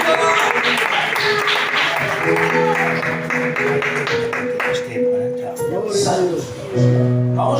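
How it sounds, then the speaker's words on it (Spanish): Church congregation applauding during a service, a brisk spread of clapping mixed with sustained musical tones and voices, fairly loud and continuous, easing midway before swelling again. "Hasta aquí un aplauso."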